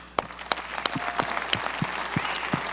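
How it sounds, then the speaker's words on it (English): A handful of sharp, separate claps ring out at a fan club Q&A with UFC fighters, spaced unevenly over a low steady room hum rather than building into full applause. "I just want to give you a round of applause."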